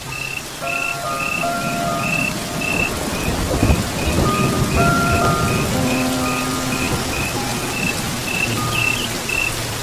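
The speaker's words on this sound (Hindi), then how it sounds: "इतनी जोरदार बारिश में भी मोटो ने उसे ढूंढ ही लिया था" Heavy rain pours down steadily in the Serengeti, with a low thunder rumble partway through and insects chirping in repeated high pulses above the downpour.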